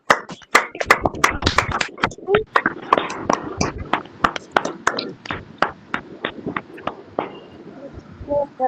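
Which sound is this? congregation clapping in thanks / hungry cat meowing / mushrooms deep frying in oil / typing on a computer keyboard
congregation clapping in thanks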